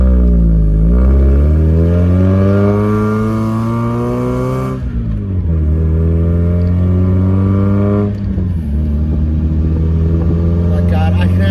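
A lowered car with a modified exhaust drives through a neighborhood, its engine loud and close, pitch climbing through gears with rising revs and dropping at each shift.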